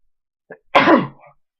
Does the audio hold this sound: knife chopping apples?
no